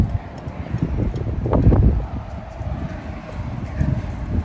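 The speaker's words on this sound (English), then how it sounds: "it's pretty windy outside" Wind blows outdoors in a continuous low, rough rumble against the microphone, swelling into a stronger gust midway before settling back to a steady buffeting.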